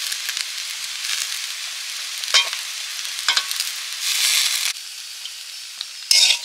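Capsicum and other vegetables sizzle steadily in a hot pan for fried rice, with a continuous crackling hiss that swells at moments of stirring and a sharper burst near the end.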